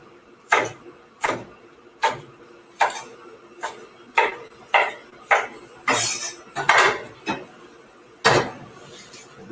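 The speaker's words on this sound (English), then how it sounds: "So the scallions next, we're just going to cut them into 2-inch pieces" A knife chopping scallions into 2-inch pieces on a cutting board: about a dozen sharp, evenly spaced thwacks, close and clear, with no talking.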